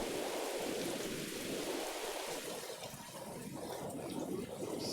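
Steady heavy rain pours in the horror role-playing game Mothered, a dense, even hiss throughout with low thunder rumbling underneath, no voices.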